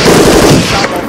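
A short, loud burst of AK rifle gunfire at an outdoor shooting session, rapid shots run together into one dense, close blast lasting about a second.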